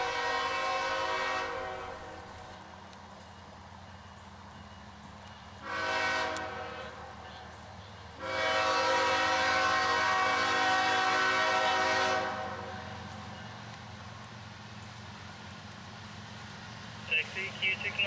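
CSX freight train Q691 from Augusta, Georgia, heading for Rice Yard Waycross, sounds long loud horn blasts: a short one, then a longer sustained one, over steady rumbling rail noise, with a radio voice faintly at the end.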